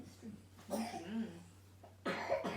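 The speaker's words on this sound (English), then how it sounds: "Your poor cough." A person coughs in a few rough bursts, including a loud one near the end, amid room noise and a steady low hum, with faint voices nearby.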